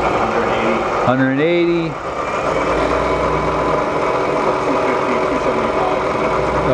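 A 1980s Bridgeport Series I vertical milling machine runs steadily in low gear, a constant mechanical hum and whir filling the clip, with a person speaking briefly over it near the start.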